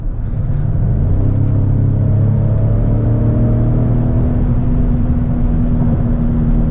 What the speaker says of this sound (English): We're now flooring it at 50.